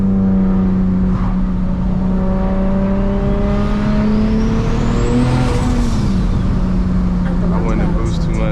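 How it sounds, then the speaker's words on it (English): A 600hp single-turbo BMW 335i under boost, the engine note rising and falling with a whooshing turbo sweep and fluttering release as the car accelerates and eases off, loud and close from inside the cabin. "when I turbo flutter"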